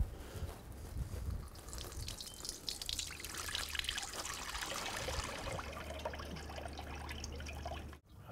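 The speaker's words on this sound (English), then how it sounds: "And we're ready to lift this churn off, and I'm going to strain this buttermilk off." Buttermilk strained off freshly churned butter, a steady trickling, pouring stream of liquid that runs close and continuous for several seconds under a low hum, with no talking.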